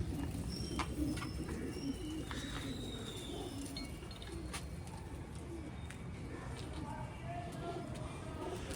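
Pigeons coo softly among other bird chirps, with a person talking nearby and a low background rumble.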